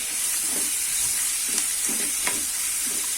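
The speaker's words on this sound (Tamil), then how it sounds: "ஒரு 1 நிமிஷம் வதக்கலாம்." Grated raw mango sautés in a hot pan, a steady sizzle broken by a few soft scrapes and stirs from a spoon; no voices.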